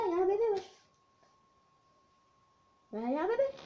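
A cat shut inside a cage gives two drawn-out meows, close and clear, separated by a quiet pause with a faint steady hum.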